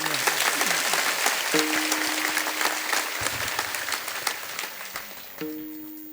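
Loud, sustained applause from an audience at a Marathi devotional kirtan gathering, dense clapping over a steady musical drone that shifts in pitch, fading slightly toward the end.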